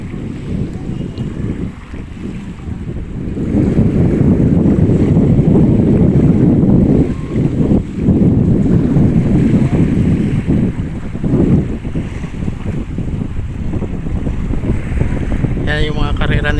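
A dragon boat race out on the water of Manila Bay, where heavy wind rumble and water noise dominate, loud and close to the microphone, with faint voices mixed in.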